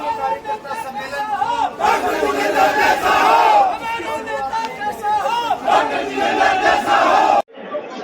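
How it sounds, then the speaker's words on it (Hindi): Thousands of party workers gathered at a political rally, cheering and shouting in loud surging waves of crowd noise that rise and fall, cutting out briefly near the end before resuming. "आप देख सकते हैं कि हजारों की भीड़ यहाँ पर एकत्रित है।"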